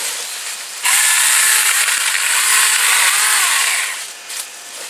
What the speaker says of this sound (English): She's making spaghetti out of these tree limbs.